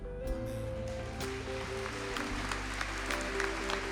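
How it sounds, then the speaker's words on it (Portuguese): A church congregation clapping in praise during a Catholic service, steady dense applause mixed with a sustained low organ or keyboard tone throughout. "Aplauda para valer, porque o Senhor está falando conosco."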